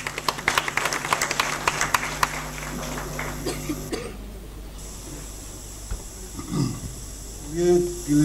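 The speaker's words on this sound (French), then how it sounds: "que je vous demande d'applaudir s'il vous plaît." Audience clapping fills the hall at a book dedication ceremony in Senegal, dense and steady for about four seconds over music before fading into quiet murmur and a few coughs.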